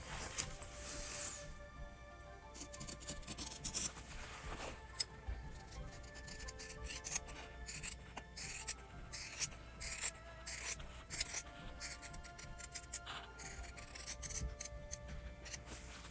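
Scissors cutting around fabric with a quarter-inch margin: continuous quiet snipping and crisp blade slicing close by, in irregular rapid strokes with no talking.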